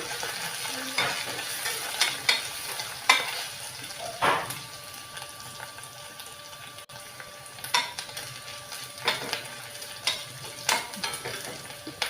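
Onions fry in a pan with ginger garlic paste while being cooked for a brinjal curry, giving a steady soft sizzle broken by repeated sharp scrapes and clinks from the stirring spoon, close by with no voices.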